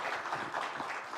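Church congregation applause during a Sunday worship service, a short, fairly faint wash of clapping from many hands.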